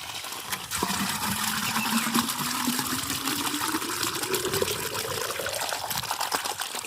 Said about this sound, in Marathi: पाणी आलंय.